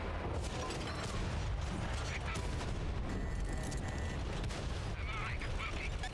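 Gunfire in a tank video game comes as bursts of booming shots and mechanical clatter over a dense rumbling din, loud and continuous throughout, with a voice talking underneath.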